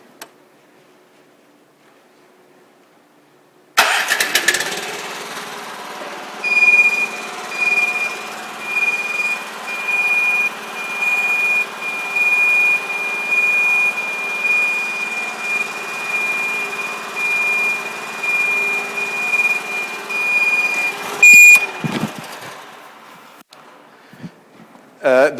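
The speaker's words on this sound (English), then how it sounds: "I'm going to just open one of the outriggers to demonstrate that feature." A Platform Basket 18.90 crawler-mounted aerial lift runs its engine while an outrigger opens, a loud steady mechanical drone with a sustained high beeping tone over it, rising and falling in bursts before stopping abruptly.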